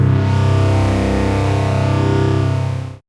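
A sustained chord from the Baby Got Beef preset on the Native Instruments FM8 synthesizer, thick, gritty and distorted, holding loud and steady for about three seconds before cutting off sharply.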